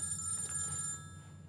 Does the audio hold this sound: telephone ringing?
yes